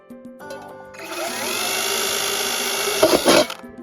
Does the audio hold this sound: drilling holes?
yes